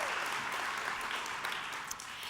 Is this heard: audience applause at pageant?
yes